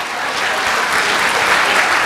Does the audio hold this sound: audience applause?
yes